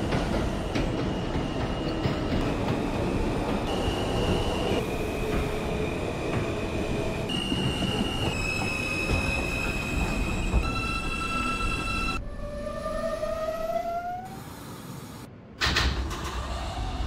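A simulated R160 subway train on the M line runs steadily with a loud rumble, rising motor whine and screeching wheels, then brakes with a squeal before a brief door sound near the end.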